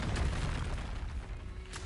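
A fiery explosive spell blast in the video game Hogwarts Legacy, a loud, dense, rumbling boom filling the whole moment with low crackling energy.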